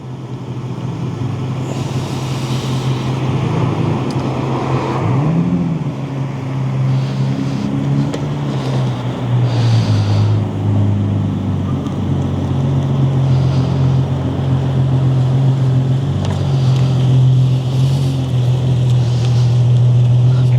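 A Nissan 350Z is driven out slowly, its engine a steady low rumble close by, rising briefly around the middle and holding on for a long stretch, with some wind noise.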